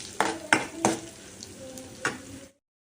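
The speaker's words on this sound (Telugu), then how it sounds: "అవి అయితే నూనెలోకి వేసేసుకుందాము. అలా బాగా కలపండి, కొద్దిగా కలర్ వచ్చేదాకా కలపండి." Ingredients for an ajwain-leaf chutney frying in oil as they are stirred, with three or four sharp scraping strokes of a spoon against the pan over a soft sizzle, close by, then cutting to silence.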